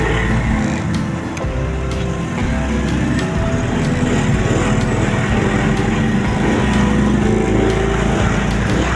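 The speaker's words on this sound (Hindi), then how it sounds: "मैंने अपना बाइक स्टार्ट किया" A motorbike engine runs steadily and loudly close by for the whole stretch, a rough continuous drone with no talking.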